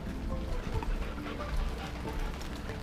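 Rain falls steadily outdoors during a passing storm, a continuous dense patter with no clear breaks, fairly close and even in level throughout.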